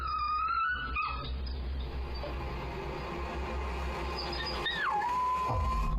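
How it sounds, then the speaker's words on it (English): A puppy whines in thin, wavering high tones, then lets out a rising and falling howl over a steady low background rumble. "He starts whining and lays down. Then he starts howling."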